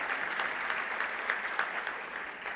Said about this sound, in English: Let's welcome sir with a round of applause.